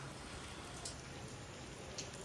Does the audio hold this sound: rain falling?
yes